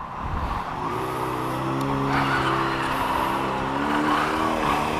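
A 250cc motorcycle engine while riding, a steady droning hum with smooth harmonic tones that rise slightly in pitch as it pulls, close and continuous.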